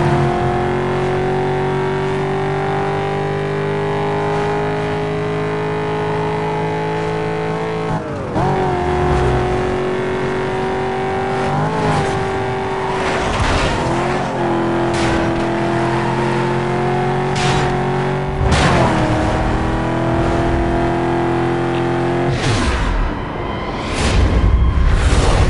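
A red Corvette racing in a Need for Speed police chase video game, its engine revving and droning loudly through repeated gear shifts and accelerations, with brief tire noise and impacts toward the end.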